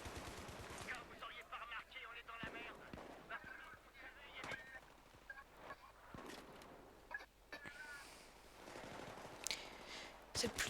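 Remington 870 MCS shotgun firing in Battlefield 3 on Xbox 360, sharp reports spaced irregularly among game effects and chatter-like clutter, with other gunfire in the mix.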